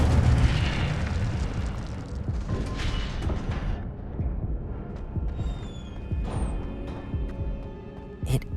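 The Incendio fire spell is cast in Hogwarts Legacy, giving a loud, roaring burst of flame with booming low rumble, followed by fainter crackles and a shimmering magical tail.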